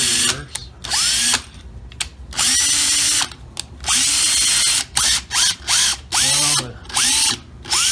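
DeWALT 18V DCD940 cordless drill running after a brush replacement, whirring in a series of short and longer bursts with spin-up and spin-down whines between pauses, close and loud, no talking.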